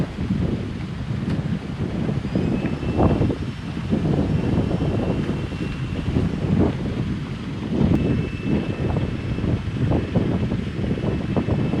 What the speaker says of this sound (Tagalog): Medyo mahangin, ito ang problema natin ito.